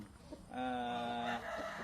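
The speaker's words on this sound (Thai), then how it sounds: "เป็นพ่อพันธุ์ ไก่เวียดนามนะครับ" A Vietnamese breed rooster on a farm lets out a single drawn-out, harmonic call lasting about a second, close and fairly clear, between quieter background sounds.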